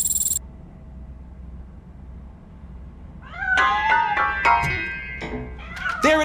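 A cat hiding inside a piano meows several times in drawn-out, rising cries after a quiet stretch, fairly close and sounding alone.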